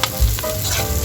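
Leeks hit a pan of garlic frying golden brown for chicken liver menudo, giving a steady close sizzle with a brief stirring scrape.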